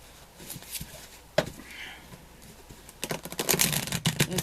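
A deck of tarot cards is shuffled by hand: soft riffling and tapping bursts at first, then a dense, louder run of rapid card flicks toward the end.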